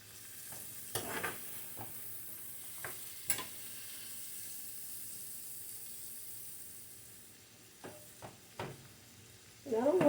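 Garlic sautés gently in butter in a pan, a faint, low sizzle broken by a few sharp clicks and scrapes of a utensil stirring, with a louder clatter near the end.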